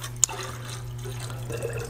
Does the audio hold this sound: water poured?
yes